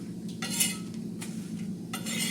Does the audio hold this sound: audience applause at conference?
no